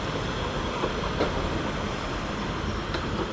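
Class 142 diesel unit 142 092 moving away on an empty stock run to the sidings at Sheffield station, a steady, dense rumble and rail roar with no pauses throughout.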